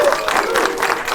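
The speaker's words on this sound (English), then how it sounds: "Give a round of applause for small business." Brief burst of audience applause at a Small Business Week closing ceremony, dense and fairly loud clapping from a crowd lasting about a second.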